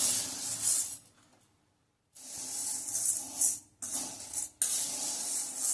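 Lentils (dal) are stirred and dry-roasted in a hot wok over a medium gas flame, making steady hissing, rattling scrapes in bursts, with a quiet pause between the strokes.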